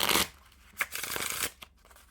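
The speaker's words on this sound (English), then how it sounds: "if you were to wiffle shuffle it like this" A deck of Ralph Steadman Flying Dog playing cards with one-way back designs is riffle shuffled up close, giving a loud burst of rapid card flutter, then a second longer ripple and a short bridge tap, with no talk.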